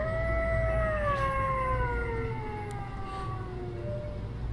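An animatronic Halloween wolf prop lets out one long, falling electronic howl, its wavering tones sliding downward over several seconds, fairly clear against steady store background noise.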